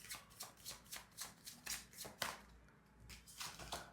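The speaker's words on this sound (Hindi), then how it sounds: "Let me pull out one more card for you" Tarot cards being shuffled and one card drawn out, a run of quick soft riffling bursts at close range, with no talking.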